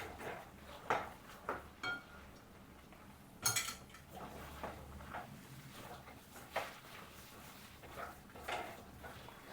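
A ladle scrapes and knocks against a metal pot while a sweet pumpkin garige batter is mixed in a home kitchen, sharp clinks and taps spaced irregularly over a quiet, faint background.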